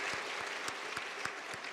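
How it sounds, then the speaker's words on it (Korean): Congregation at a Sunday afternoon church service claps in encouragement for a newly installed pastor, a steady, fairly soft wash of applause from the room. "격려의 박수 한 번 더 보내주시죠"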